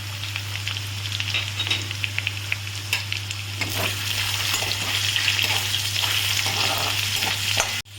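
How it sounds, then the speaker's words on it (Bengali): Garlic fries in hot oil in a pan, following potatoes, for a Bengali thor and prawn dish. It makes a loud, close, continuous sizzle that grows denser midway, with stirring scrapes and no voices. "রসুনটা ভাজা ভাজা হয়েছে"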